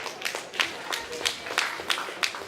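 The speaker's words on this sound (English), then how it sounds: "Another round of applause for Mr." Scattered applause from a small audience at a formal presentation, uneven individual claps fairly close, with some faint murmuring underneath.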